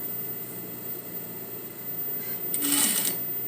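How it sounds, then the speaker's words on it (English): A sewing machine stitches a sleeve into a bodice, running over the gathered fabric. The motor hums steadily at a quiet level, then a louder whirring burst comes near the end. "And sew right over all that gathering."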